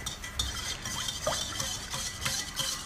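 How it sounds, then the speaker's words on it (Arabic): A utensil stirs and scrapes egg, oil, water and vanilla batter inside a bowl by hand in quick, steady strokes, with light clinks against the side, close and fairly quiet. "تقريبا 3 دقائق مثلا بنحركهم بهالطريقة"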